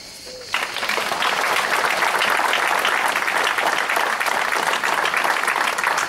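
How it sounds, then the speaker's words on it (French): Applause erupts at a firefighters' Grand Or medal ceremony at a monument in Salernes, a dense, steady outdoor clapping from a gathered crowd that starts abruptly and holds evenly throughout. "Tu mérites les applaudissements de tous tes présents et autour de ce monument."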